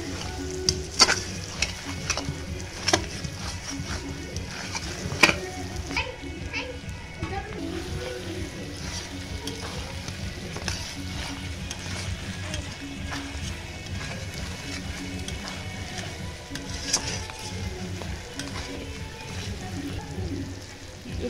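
Masala being sautéed in a pan for a Christmas family meal, heard as a continuous close sizzle with scattered clinks of a stirring spoon, while people and children talk in the background throughout.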